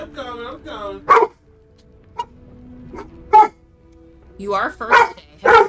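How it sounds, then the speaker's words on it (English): A pet dog barks indoors at home, wanting to go upstairs; a few short, sharp barks come early and close, and people talk over and around them. "Sorry, that's our dog."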